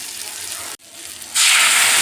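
Cooked moong dal is poured into a pan of softened tomatoes, giving a soft wet hiss that breaks off briefly, then swells into a louder, steady sizzling gush near the end.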